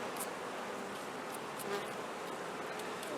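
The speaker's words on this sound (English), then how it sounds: "I kind of just want to brush these bees off, actually." Honeybees on the comb hum in a steady, close buzzing swarm while being brushed off, with occasional brief higher-pitched zips as individual bees pass near.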